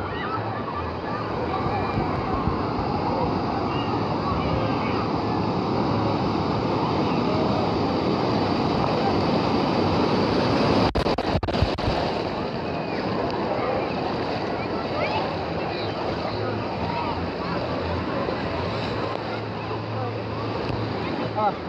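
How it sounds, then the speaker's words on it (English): Huge wave rolling through the Typhoon Lagoon wave pool as a loud, continuous wash of surf and splashing water with wind buffeting the microphone, and people talking underneath. "In a minute, there's going to be a huge, massive wave over there"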